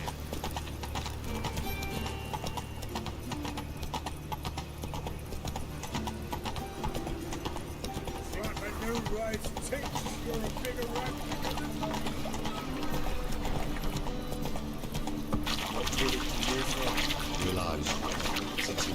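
Horse hooves clip-clopping at a steady gallop in The Witcher III, a continuous rhythmic beat under a game music score, with a voice talking at times over the hoofbeats.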